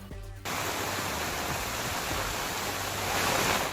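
Floodwater after heavy rain in Hubballi, Karnataka, rushing over a submerged road: a loud, steady, broadband roar of flowing water that starts abruptly and continues unbroken, with no voices.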